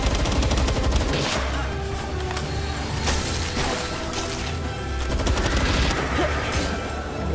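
Rapid gunfire in the video game Palworld during a boss fight against Frostallion: dense, continuous bursts of shots layered over a busy game soundscape, loud and steady for several seconds with no talk.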